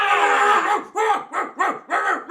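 A dog in an animated show growls and grumbles in a short run of rising and falling snarls, loud and close, with a brief voiced yelp at the start.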